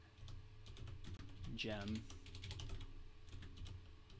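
Someone types a command on a computer keyboard while coding a Ruby gem. Quick, light key clicks run throughout, with soft talk partway through.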